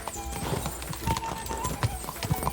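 Hooves clip-clop in a rapid galloping rhythm from a horse in the video game Kingdom Come: Deliverance II, close and steady, with an occasional neigh and some talk over the top.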